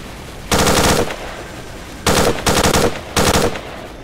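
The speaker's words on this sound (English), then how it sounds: "Helicopters, helicopter gunfire, what's going on?" Loud bursts of rapid automatic helicopter gunfire in the video game STALKER come in three separate volleys, each about half a second long, with brief silences between them.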